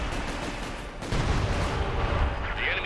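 Aircraft strafing fire in the Company of Heroes 2 strategy game, a dense rumbling burst of rapid gunfire and booms that swells midway and keeps rolling, with battle noise filling the background.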